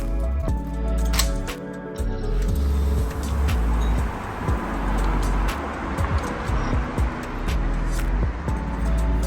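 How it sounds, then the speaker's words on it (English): Continuous traffic on Oxford Street, Sydney, rumbles past, engines droning and swelling steadily, heard from inside a hotel room with a low constant hum. "you could hear the traffic"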